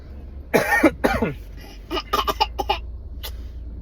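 Two strong, close coughs in quick succession, then a run of shorter, softer coughing bursts trailing off, with no talking.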